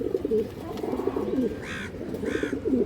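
Two soft cooing calls from a large old-breed purple male pigeon, heard close up over a steady murmur of other birds in a loft.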